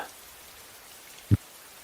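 Soft, steady rain falls as a faint, even hiss throughout, broken once near the end by a single dull, low knock.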